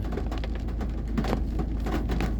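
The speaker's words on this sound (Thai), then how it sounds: "ฝนลงเม็ดเด้อ" Rain falling during an evening drive toward a cave, a steady, soft hiss of drops with a low rumbling background, continuous and unbroken.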